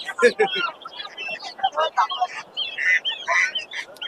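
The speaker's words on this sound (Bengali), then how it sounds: "এদিকে কিছু হাঁস মুরগি আছে" Ducks and chickens at a busy pigeon market give bursts of clucks and calls that chatter in uneven clusters, fairly close and mixed with crowd murmur and possible voices.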